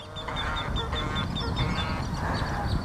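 A goose honks repeatedly outdoors, a rapid series of nasal calls close by, with other waterfowl and background noise underneath.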